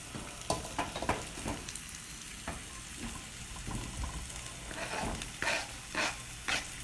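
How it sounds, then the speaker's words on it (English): Vegetables and garlic sauteing in a pan for veggie risotto, a steady soft sizzle with scattered sharp clinks and scrapes of a utensil against the pan, close and moderately quiet, no voices. "So these are sauteing, and they're going to start getting nice and crispy and brown."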